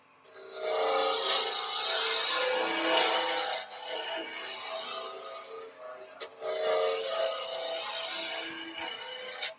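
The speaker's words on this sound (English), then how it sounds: "Just going to take this down to a nice clean cylinder. So our shaving's starting to get longer." A wooden race car toy blank is turned on a lathe, the chisel shaving it down to a clean cylinder: a loud, steady rasping scrape in long continuous passes with brief gaps and one sharp click, no talk.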